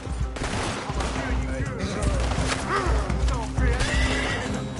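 A horse in the Red Dead Redemption 2 video game gives loud whinnying neighs over clip-clopping hooves, with gunfire bursts and a voice talking in the busy game mix.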